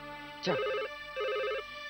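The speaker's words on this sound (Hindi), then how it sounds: "अरे फोन की घंटी बज रही है" A telephone rings indoors with two electronic trilling bursts separated by a short pause, fairly quiet and steady against a faint background hum.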